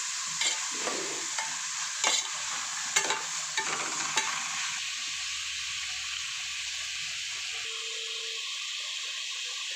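Tomato and capsicum fry in a pan while a utensil stirs them, with bursts of scraping and sizzling in the first half that settle into a quieter steady hiss. No one speaks.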